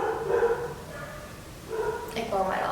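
Pet dogs bark and yip indoors in a couple of short clusters, fairly close, while a person keeps talking over them.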